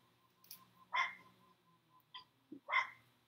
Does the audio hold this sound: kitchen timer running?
no